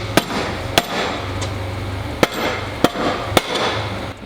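Hammer blows striking a transmission case to split it apart, five or six sharp, loud metallic impacts spaced unevenly over a low background hum.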